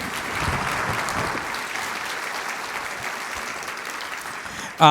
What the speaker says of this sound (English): So those funders, a collective round of applause